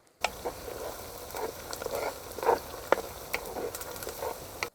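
Onions fry in a pan with green chillies for an egg and garlic curry, a close, steady sizzle with stirring scrapes and small crackling pops throughout.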